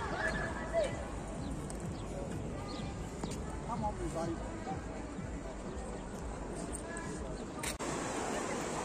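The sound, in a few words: donkey braying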